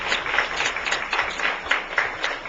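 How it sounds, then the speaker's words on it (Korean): Audience clapping at an evening gathering, a brief, steady burst of applause from a moderately sized crowd, heard alone without talk. "박수를 한번 쳐줍시다"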